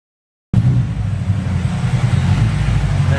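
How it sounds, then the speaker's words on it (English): Honda EP3 car engine rumbling as it pulls away, a loud steady low drone that starts abruptly after brief silence and holds throughout. "There goes Matt's EP3 all on its own. This thing sounds so nice."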